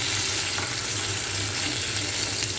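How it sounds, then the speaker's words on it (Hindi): Stuffed potatoes frying in oil give a steady, dense sizzle that holds evenly for the whole stretch, close and fairly loud, with no voices. "इनको फ्राई कर रहे हैं।"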